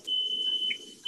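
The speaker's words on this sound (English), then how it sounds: "I hear somebody's smoke alarm." A smoke alarm chirps in a kitchen during cooking, a thin steady high-pitched electronic beep sounding for about a second at moderate distance, with faint background murmur.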